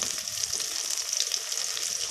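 Garlic and curry leaves sautéing in hot oil for a horse gram curry give a steady, close, bright sizzle that holds evenly throughout, with no talk.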